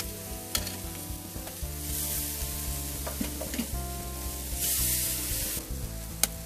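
Tandoori-marinated pork belly slices sizzling on a grill over glowing charcoal embers at a neighborhood barbecue, a continuous crackling fry with occasional sharp pops and a clack near the end, no talking.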